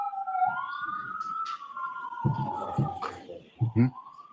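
A wailing emergency siren rises and holds steady, with low thumping bursts and a voice breaking in briefly underneath.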